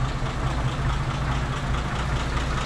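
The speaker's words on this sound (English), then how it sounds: "Let you listen to the engine." A 1956 Dodge C-4-B half-ton pickup's inline six idles in neutral, a steady, close, low rumble with an even mechanical patter and no talk.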